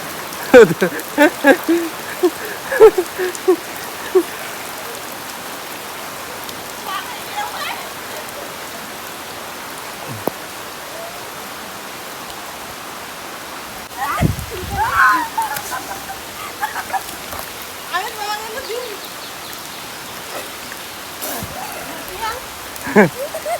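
Steady rain patters down in a continuous wash of noise, with scattered voices speaking over it at times.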